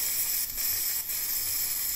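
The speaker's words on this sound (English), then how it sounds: "we can see now we're getting a full head of steam coming into here" Steam hisses steadily from the wand of a Delonghi COM532M all-in-one coffee and espresso machine, a continuous, fairly loud and close rush of air with no talking.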